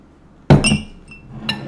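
A large drinking glass of water clinks loudly against a hard surface, with a bright ringing impact and a brief second clink a moment later, close up with no talking.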